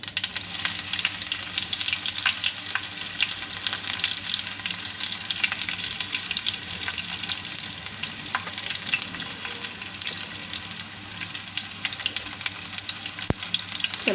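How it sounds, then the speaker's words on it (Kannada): Mustard seeds splutter and crackle in hot oil in a pan for an okra stir fry, giving a steady close sizzle with scattered sharp pops throughout and no talking. "ನೋಡಿ, ಇವಾಗ ಸಾಸಿವೆ ಚಿಟ್ಲುತ್ತಾ ಇದೆ."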